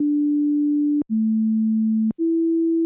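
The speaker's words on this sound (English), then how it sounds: "after the click now it goes vroom, kind of just eases into the note" A synth note in Ableton Live, a pure steady tone, is cut by a sharp attack click about once a second, each time moving to a slightly different pitch and continuing clean and level.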